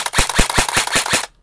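An E&C airsoft rifle fires a rapid full-auto burst of about seven loud, evenly spaced shots, each a sharp broadband crack, ending abruptly in silence.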